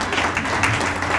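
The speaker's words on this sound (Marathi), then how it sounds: "टाळ्या वाजव" An audience at a book ceremony in Nanded breaks into brief, dense applause, a loud wash of many hands clapping together for about a second.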